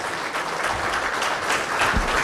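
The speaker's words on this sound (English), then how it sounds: "Please give him a big round of applause to Mr. Ivan Negli." Audience applause fills an award ceremony hall, a steady dense wash of many hands clapping at once, loud and sustained throughout with no speech over it.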